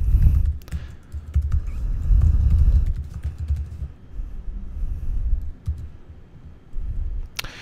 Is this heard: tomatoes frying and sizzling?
no